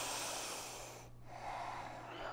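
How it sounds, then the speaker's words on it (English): Deep breathing with the diaphragm, one long audible breath drawn in with an airy hiss, a short pause, then a second breath, close to the microphone and fairly soft. "breathing with your diaphragm, is different than breathing with your shoulders"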